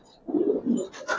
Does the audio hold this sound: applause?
no